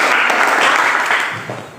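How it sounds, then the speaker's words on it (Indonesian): Audience applause following a persuasive speech in a classroom teaching session, a short, loud burst of many hands clapping together that fades toward the end. "Oke, berikan aplaus"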